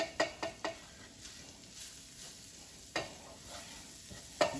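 Flour is stirred into breakfast sausage in a frying pan over a low sizzle, with a quick cluster of utensil scrapes and taps against the pan, then a couple of isolated knocks.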